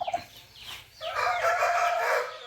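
A broody hen being readied for sitting on eggs, clucking and calling close by in a few short notes and then one longer, drawn-out call, loud and alone.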